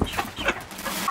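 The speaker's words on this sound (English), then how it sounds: "Look at all of our cute chickens." Farm chickens, including black hens, cluck and murmur close by in a short, busy burst of overlapping calls, with no talking.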